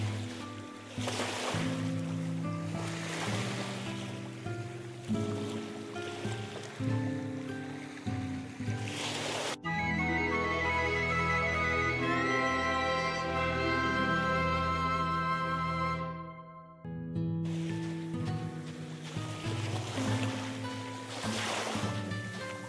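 Ocean surf washes steadily beneath layered orchestral music in Star Ocean 2 Second Story R, a continuous soft rush of waves with no one speaking.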